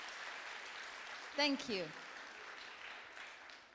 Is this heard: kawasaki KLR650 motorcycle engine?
no